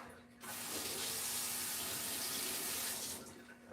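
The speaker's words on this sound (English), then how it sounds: "I gotta give this a little rinse." A food processor plunger is rinsed under a running kitchen tap: a loud steady rush of water starts abruptly, runs for about three seconds and then cuts off.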